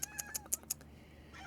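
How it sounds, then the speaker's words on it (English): A house cat meows faintly indoors, two soft drawn-out calls that open and close a brief quiet moment, with a few light clicks between them. "Oh, I hear the cat."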